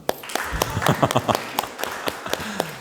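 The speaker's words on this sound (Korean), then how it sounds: "여러분 축하합니다. 박수 한번." A small group at a Catholic catechism class in a church claps briefly, with scattered, uneven claps and taps that thin out after a couple of seconds.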